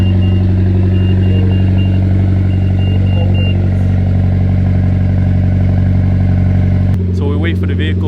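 A Mitsubishi Evo idles during a cold start after sitting for a week, giving a loud, steady low engine drone close by with a faint whine on top, and a voice starts talking near the end.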